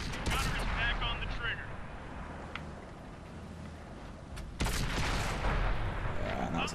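Tank cannon fire and battle noise from World of Tanks on console, a dense rumbling backdrop with sharp reports near 0.5 s, 2.5 s and 4.6 s, the last loud and sustained; a voice talks over part of it.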